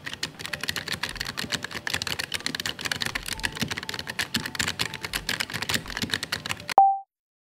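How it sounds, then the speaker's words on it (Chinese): Rapid continuous keystrokes on a compact K3 Pro mechanical keyboard with a steel plate and stabilized large keys, close and crisp, followed by a short electronic beep as the typing stops. "好了，我们来听听它的打字音吧。"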